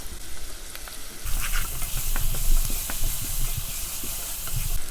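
Garlic sizzles in hot oil in a pan after cooked onion while making pizza sauce, a quiet stretch giving way to a steady close frying hiss with small crackles and pops and occasional stirring.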